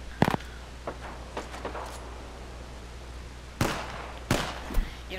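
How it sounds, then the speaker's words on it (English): Gunfire in the battle royale game Apex Legends, scattered distant cracks and pops that come in short irregular bursts over a low steady background hum. "Wait, people are shooting."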